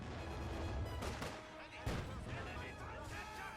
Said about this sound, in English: coming under fire there from the 45 mm gun as it fires left, right, forwards, backwards